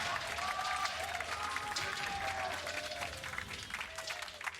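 An esports arena crowd at the 2019 League of Legends World Championship applauds and cheers for Damwon against Flamengo, a dense, steady wash of clapping with commentators talking over it.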